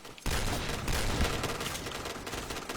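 Rapid bursts of gunfire from a shooting video game, starting abruptly and running as a dense, continuous fusillade of overlapping shots at close range for the remainder.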